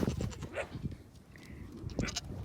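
Nigerian Dwarf goats bleat during milking, short faint cries scattered over a busy background of shuffling and clatter, with a couple of brief bleats standing out near the middle and end.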